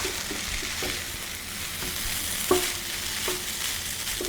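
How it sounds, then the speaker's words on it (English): Fried rice is stirred in a hot pan with a soft continuous sizzle, and a spatula scrapes and taps the pan now and then, with one sharper clink near the middle. "And stir this all up."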